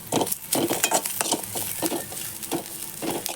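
Garlic cloves and onion fry in a pan with a soft sizzle as a utensil repeatedly scrapes and clinks against the metal in a close, uneven rhythm.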